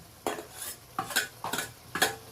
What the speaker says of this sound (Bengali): এই দেখুন ভেজে রাখা মাছটা আমি অ্যাড করে দিলাম